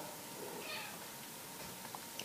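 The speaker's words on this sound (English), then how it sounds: "There's the cat." A cat meows faintly once or twice in a quiet home, the thin calls barely rising over a steady hiss of background noise.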